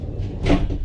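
A door on a Ram ProMaster 3500 cargo van opens in a single close, brief mechanical clunk with a light rattle, standing out from a quiet background.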